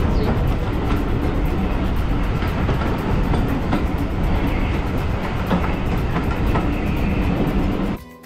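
Steam train running, loud and continuous with a steady rumbling rattle of rail carriages and clatter throughout, ending abruptly near the close.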